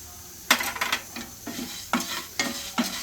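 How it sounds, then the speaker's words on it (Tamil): Dried red chillies, black pepper and fenugreek seeds dry-roast in a pan, with rattling and scraping as they are stirred in rhythmic bursts over a faint steady sizzle. "நாலு காஞ்ச மிளகா போட்டுக்கோங்க. மிளகும் வெந்தயமும் போட்டுக்கலாம்."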